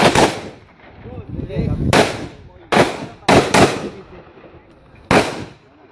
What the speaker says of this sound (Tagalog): Shooters, double tap. Fire when ready.